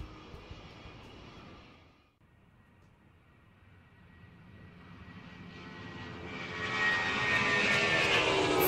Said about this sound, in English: Fighter flies so fast.